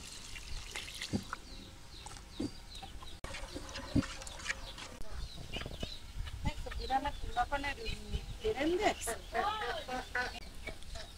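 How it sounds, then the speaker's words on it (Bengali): Ducks quack repeatedly in a village setting, mostly nearby. The calls get busier toward the end and are mixed with people talking and other background noise. "আজকে হইলে হাঁস সব বান্দা ছাড়ে না, এই জন্য খালি ক্যা ক্যা করতেছে"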